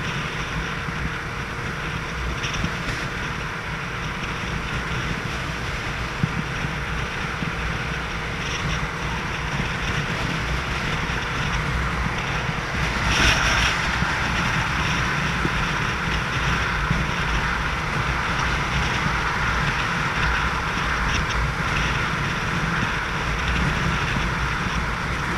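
A Yamaha XSR700 motorcycle cruising on the motorway at around 60 mph, a constant, loud roar of engine drone mixed with wind rush that holds steady throughout, with no speech.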